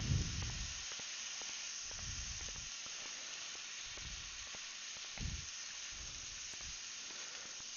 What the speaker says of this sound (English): Just going to put a couple tablespoons of soy sauce in there. Let that kind of steam up.